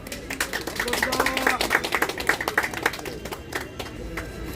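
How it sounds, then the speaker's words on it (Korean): An audience claps at a May 16 revolution commemoration ceremony, a dense burst of many hands that swells and then tapers off, moderately loud, with voices faintly behind it. "이 주체와 주관하신 분들께 뜨거운 박수 부탁드리겠습니다"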